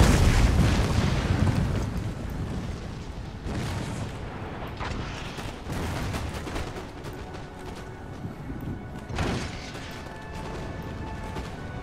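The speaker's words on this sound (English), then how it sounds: "The opening musket shots." Muffled musket volleys and booming cannon fire roll through a battle in Empire: Total War, a dense barrage of overlapping cracks and thuds with several louder blasts standing out against continuous rumbling noise.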